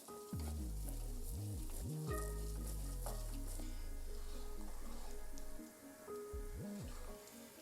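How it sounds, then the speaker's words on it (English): A spoon scrapes and stirs shrimp and grits in a pot while the mixture gently sizzles, with a steady close bubbling texture and occasional louder scraping strokes throughout. "we're going to stir, of course, because it is always important to get down to the bottom"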